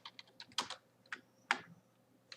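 Close, crisp keystrokes on a computer keyboard as an event name is typed, coming in irregular bursts of clicks with short pauses between them and no speech.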